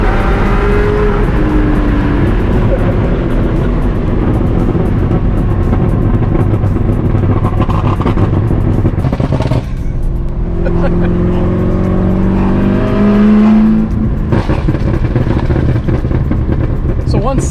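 A Chevrolet Corvette ZR1 supercar engine rumbles loudly and steadily, revving as the car pulls away, with people talking over the engine noise.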